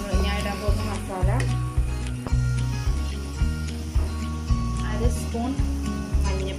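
Tomatoes and rice fry in a pan as spice powders go in, with steady sizzling and regular scraping stir strokes repeating about once per second, up close and loud.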